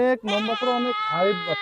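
A goat on a commercial goat farm gives one loud, close, drawn-out wavering bleat that runs almost unbroken for over a second.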